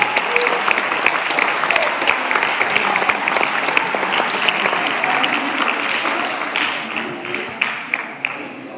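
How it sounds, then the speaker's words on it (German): An audience at a judo award ceremony applauds: lively, close clapping from a crowd with a few sharper individual claps toward the end, lasting around nine seconds. "Applaus."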